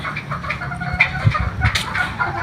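A Boston Gray brood rooster clucks close by in short, throaty bursts with a few sharper calls, alone with no talk over it.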